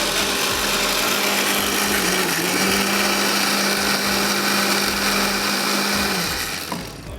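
A kitchen grinder whirs steadily and loudly as it purees paste for kofta gravy, one continuous motor drone of about six seconds that slows and stops near the end, with no talking.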